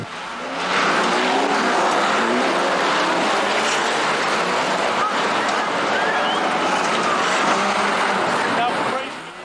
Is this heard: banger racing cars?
yes